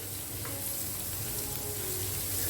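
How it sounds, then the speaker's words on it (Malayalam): Green chilies and ginger fry in hot oil for a Kerala meal, a dense, even sizzle that stays steady and close throughout without any voices. "പച്ചമുളക് ഇഞ്ചിയും ഒക്കെ നല്ല മൂത്തൊന്ന് മണം വരുന്നത് വരെ നിങ്ങളിതിനൊന്ന് വറുത്തെടുക്കണം."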